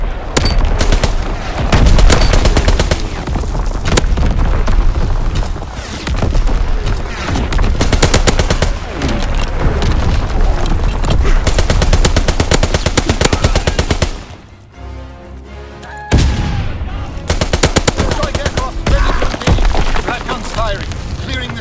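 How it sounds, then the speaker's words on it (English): Sustained machine-gun fire rattles almost without pause in a Call of Duty: WWII team deathmatch on the Shipment 1944 map, dense overlapping bursts with booms mixed in, loud and close, dropping briefly before resuming. "Fighter pilot inbound, strafing the target."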